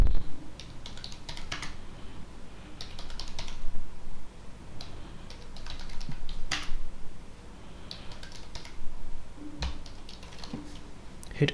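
Fingers tap out commands on a computer keyboard while installing Arch Linux, quick clustered bursts of keystrokes separated by short pauses, close and crisp with no talking.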